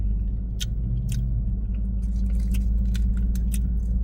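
Crunchy fried fish and shrimp being bitten and chewed close to the mic, with sharp, irregular crackling crunches spread over a low background hum and no talking.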